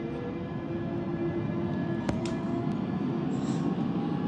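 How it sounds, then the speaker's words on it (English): A London Underground Central Line train pulls away from Oxford Circus in the OpenBVE simulator under automatic train operation, giving a steady, close motor rumble with faint whining tones and a brief sharp click midway. "I like the sound of the train like starting up"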